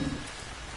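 Steady rain falling in the survival video game Ark, a dense even hiss filling the short moment with no voices.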